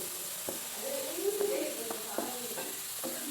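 French fries frying in hot oil, a steady bright sizzle with a few soft scrapes and knocks as they are stirred around the pan; a voice may be faintly present.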